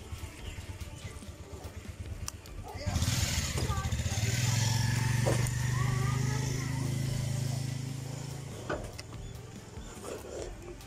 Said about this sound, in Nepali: ल मैले अब बाइक स्टार्ट गर्नुपर्ने हुन्छ